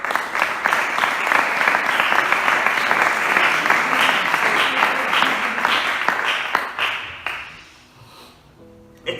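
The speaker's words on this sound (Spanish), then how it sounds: "Dale un fuerte aplauso a Dios, por favor" Church congregation applauding God during a Spanish doctrinal study on salvation, a dense, sustained burst of many hands clapping that fades out near the end before a faint voice returns.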